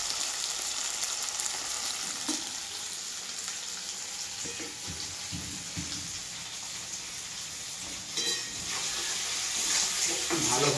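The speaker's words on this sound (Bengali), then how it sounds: "ভালোভাবে এখন আমি এটাকে ভাজবো।" Crab fries in a pan with a constant, close hiss and crackle of hot oil, punctuated by occasional louder spits and stirring knocks.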